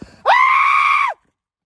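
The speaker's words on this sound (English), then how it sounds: "Let's hear your best birthday boy yell and echo." A man's loud birthday yell rings out in Pisgah National Forest on the Art Loeb Trail, a single sustained, piercing cry lasting about a second that stops abruptly.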